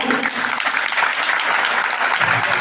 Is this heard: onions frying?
no